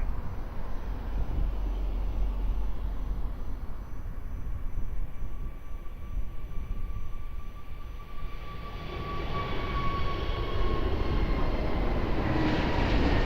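Airliner on approach to runway 02 at Lisbon Airport: a distant, steady jet roar that swells gradually, with a faint whining tone sliding across it as the aircraft nears.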